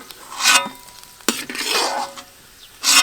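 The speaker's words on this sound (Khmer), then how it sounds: "យើងចំហៀវខ្លាញ់រួចហើយឥឡូវយើងដួសសំណក់ខ្លាញ់ចូល" Rendered fat is ladled into a pan of sizzling stir-fry for a chicken-feet curry soup, with bursts of hissing, metal scraping and clinks of utensil on pan, close and fairly loud.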